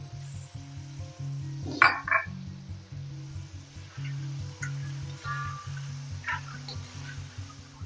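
Finely chopped garlic sizzles in butter in a pan with mushrooms, a steady soft frying hiss with a brief louder burst as it goes in, under a low droning background hum.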